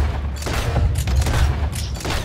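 Gunfire during a bank robbery in Red Dead Redemption 2, several heavy booming shots in quick succession with rumbling low-end reverberation, loud and close with no talk over it.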